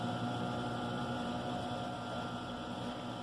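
A domestic sewing machine runs steadily, stitching together the seams of a tulip quilt block for a patchwork rug, giving a continuous even motor hum with a faint rapid needle patter and no pauses.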